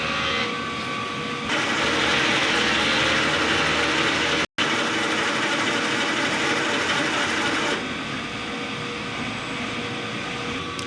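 DTF printer running a print head cleaning cycle, a continuous mechanical whirring and ratcheting hum that holds steady, briefly cuts out, then drops slightly in level.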